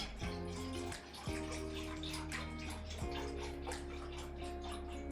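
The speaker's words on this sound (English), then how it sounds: "after you add the 6 cups of water and 4 cups of chicken broth" Water and chicken broth pour steadily into a soup pot for Zuppa Toscana, a continuous splashing gush with brief breaks as the stream shifts, close and fairly even in level with no talking.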